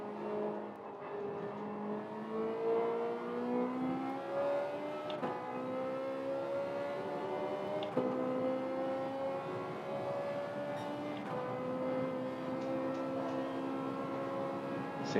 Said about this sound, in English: It's so cool when the Group 1 cars go by.